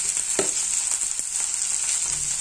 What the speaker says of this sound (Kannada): ಒಂದೆರಡು ಸಣ್ಣ ಹೆಚ್ಚಿದ ಈರುಳ್ಳಿ ಹಾಕ್ತೀನಿ ಹಸಿ ಸ್ಮೆಲ್ ಹೋಗಬೇಕು ಚೆನ್ನಾಗಿ ಫ್ರೈ ಆಗಬೇಕು